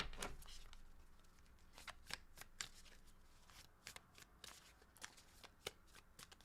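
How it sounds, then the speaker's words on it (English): Tarot cards are shuffled in repeated quick riffles and snaps, each burst crisp and close. Soft, irregular flutters sit over a quiet room background with no speech. "Last shuffle."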